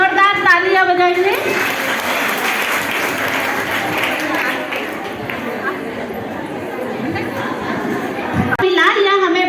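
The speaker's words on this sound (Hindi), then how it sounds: "सभी जोरदार तालियां बजाएंगे।" Applause from a crowd with children at a Brahma Kumaris Sankranti gathering, sustained clapping mixed with chatter and kids' voices, with talk at the start and end.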